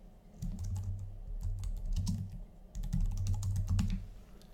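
Rapid keystrokes on a computer keyboard as a discussion thread title is entered, arriving in two bursts of steady clicking with a brief pause between, close and alone.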